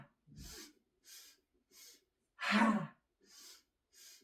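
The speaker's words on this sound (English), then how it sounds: "let's do 5 rounds together of the breath of joy" Breath of joy yoga breathing exercise done at an easy pace: a string of short, sharp nasal inhales and breathy exhales in a quick rhythm, about seven puffs, one stronger forceful exhale in the middle, close and fairly soft.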